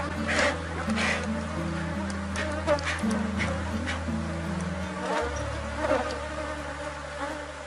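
Honeybees buzz in a dense, close swarm while a hive is being divided, a continuous insect drone under steady background music.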